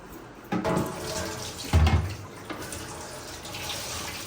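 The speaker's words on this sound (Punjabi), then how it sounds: "ਇਹ ਜਿਹੜੀ ਸਬਜ਼ੀ ਲੈਣੀ ਆ ਨਾ ਇਹ ਪਹਿਲੇ ਧੋ ਲਵਾਂ" Vegetables washed under a running tap in a village home, a steady close splash of water with a couple of louder surges as produce is handled, no talk.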